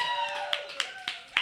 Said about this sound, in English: Clap for the poetry.